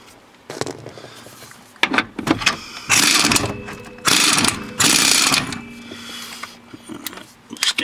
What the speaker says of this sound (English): So I guess we're going to start taking bolts out.